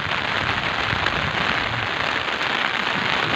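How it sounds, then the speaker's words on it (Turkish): Heavy rain pours steadily in a village in Çüngüş, Diyarbakır, a dense, even hiss of drops hitting surfaces close by, with no voices. "çok güzel yağmur yağıyor arkadaşlar"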